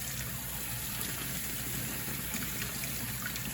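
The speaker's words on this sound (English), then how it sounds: "I'm going to turn the faucet water on full blast, and I'm just going to vigorously shake the fruit and run the water all over them" Kitchen faucet on full blast pouring over prickly pear fruit being shaken under it, a steady broadband rush of running water throughout with no talking.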